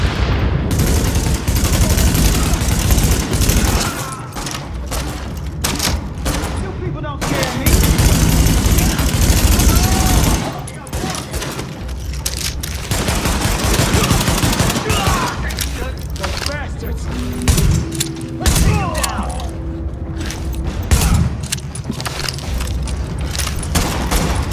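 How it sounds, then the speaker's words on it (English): Heavy gunfire rattles through a firefight in Tom Clancy's The Division at Madison Field hospital, with dense automatic bursts, single shots and booms running almost nonstop, loud and close, and a voice speaking at points. "Party's taking heavy fire from the roof."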